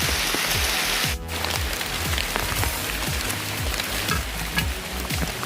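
Heavy rain pours steadily on a hillside, a dense continuous hiss of drops drumming on surfaces close by, loud throughout with no voices.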